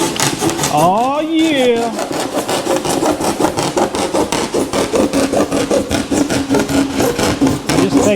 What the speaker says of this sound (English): Just take your hacksaw blade and cut it.